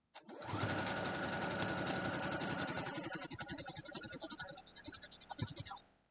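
Sewing machine stitching down a quilt block, a close, fast, steady whirring chatter of the needle that starts abruptly, runs for several seconds, then slows and stops.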